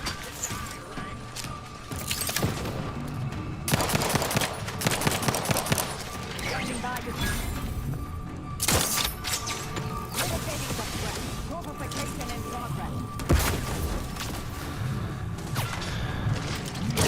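Grenade blast and gunfire in The Outer Worlds 2, a shooter game: repeated sharp cracks and heavy bursts scattered across a chaotic firefight, with people talking throughout over the shooting.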